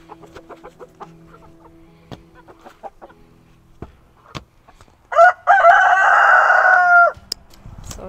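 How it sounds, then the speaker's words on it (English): Backyard chickens being thrown treats, with scattered soft clucks and small noises early on, then a loud rooster crow rising and holding for about two seconds near the end. "I'm gonna throw some to the chickens."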